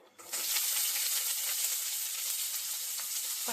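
Onions sizzle in a hot pan for kichadi, a loud, steady frying hiss that starts abruptly and continues without pause.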